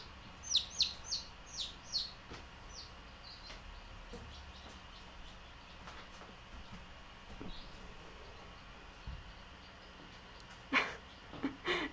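Baby chicks give faint, scattered high chirps, some in quick bursts, over soft indoor background noise.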